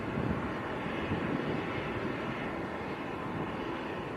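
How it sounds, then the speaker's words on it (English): Loganair Embraer airliners taxi at Manchester airport, a steady broadband jet-engine rumble and hiss holding at a constant moderate level throughout, with no voices over it. "Loganair on our favourite taxiway. In fact, there's two Loganair Embraers on the south side at the moment."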